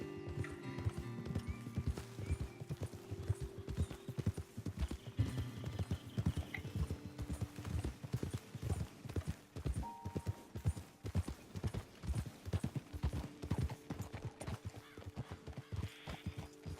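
Horses in the video game Red Dead Redemption 2 clip-clop steadily along at a walk, with a few faint snorts and a whinny, quiet and close, with no talk.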